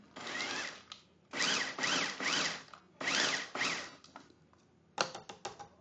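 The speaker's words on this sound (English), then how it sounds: "we're just going to whirl this just a little bit. A little bit more. My trusty old little food processor here." A small, old food processor whirls granola bar ingredients in several short bursts of grinding buzz with brief pauses between, ending in quick stop-start pulses.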